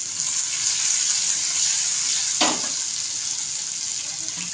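Stuffed brinjals frying in oil over medium heat, a bright steady sizzle holding evenly close by, with one brief knock or stir midway.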